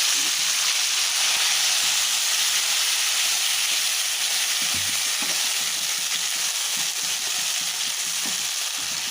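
Chopped tomatoes and onions hit a hot, oiled pan with asafoetida for a dhaba-style potato curry, giving a loud, steady hissing sizzle that holds evenly throughout with faint clinks underneath.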